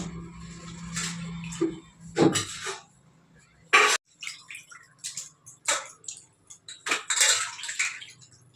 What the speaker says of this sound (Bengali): কর্তামশাই বাজার থেকে মাংস নিয়ে এসছে, আমি এই যে ধুচ্ছি এখন।